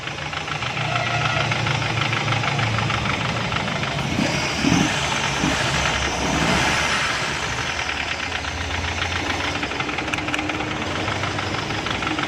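CNG car engine idling with a misfire from a faulty first spark plug, a steady loud rough running sound with uneven knocking pulses throughout, no talking.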